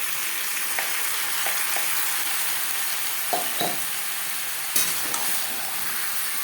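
Potatoes with spice paste, salt and turmeric being stirred in a pan while they fry, with a steady sizzle and scattered soft scrapes and clicks from the spoon, no voices.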